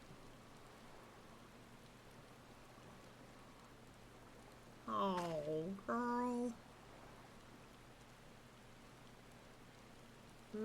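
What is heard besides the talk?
falling rain in Final Fantasy XIV video game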